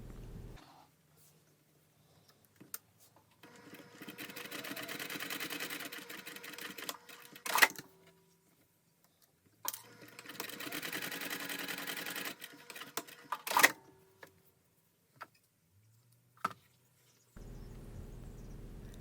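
A sewing machine top-stitches the folded edges of a fabric strap for a bag, with two long runs of quiet, rapid stitching separated by pauses and small handling clicks.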